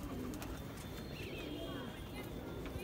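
Rampur pigeons coo in low, throaty bursts around a loft, with a steady murmur of background activity and occasional sharp knocks; a voice speaks faintly underneath.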